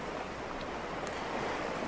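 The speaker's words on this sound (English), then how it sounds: "the waves begin to calmly come to the shore and right back out" Ocean waves wash gently onto a beach shore and draw back out, a soft, continuous surf hiss heard faintly with no voices.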